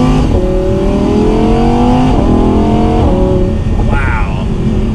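A 2020 Audi R8 V10 Performance Spider exhaust revs hard on a drive, with rising engine howls broken by quick gear shifts and a sharp rev near the end, loud and close, while someone talks over it.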